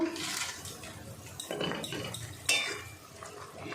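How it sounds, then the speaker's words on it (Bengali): Maggi noodles being added and stirred into a vegetable soup in a pot, with a spoon clinking and scraping against metal amid sloshing liquid, close and fairly loud, no talking. "এই সুপের মধ্যেই ম্যাগিটা দিয়ে দিতে হবে।"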